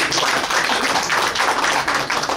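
An audience at a regional government event claps for Pak Asmar, the acting regent. The dense, even patter of many hands carries throughout, close and fairly loud, with no voices over it.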